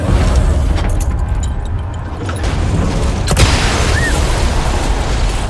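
A loud, sustained explosion rumbles in Resident Evil 4 Remake, a dense roaring blast with crackling bursts that stays heavy throughout, with no talk over it.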